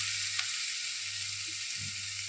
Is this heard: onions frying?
yes